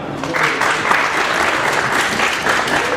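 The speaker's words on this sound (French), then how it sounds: "Oui, vous pouvez les applaudir bien fort parce qu'ils sont super." An audience claps steadily for a band of guitar, bass and drums during a live radio broadcast at the Vendée Globe 2012 event, a dense, continuous wash of applause throughout.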